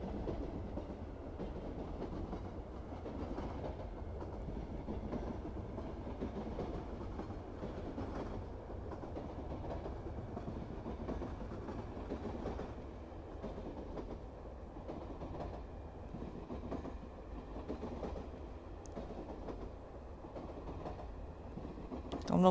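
The Karnataka Express rumbles along the rails on its Bangalore to New Delhi run, a steady low rolling roar with faint rhythmic clatter, heard continuously from inside the moving train.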